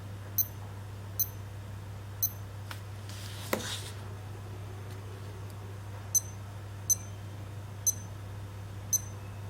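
A Casio F84W digital watch, Japanese-market version, gives a series of short, soft electronic beeps, about eight spaced irregularly over the span, heard close up against a faint steady hum with no talking.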